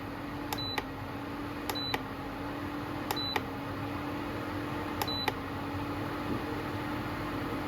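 The cooling fan of a Zunvolt induction cooktop hums steadily and faintly close by, while four pairs of short electronic beeps from the control panel sound at regular intervals over it.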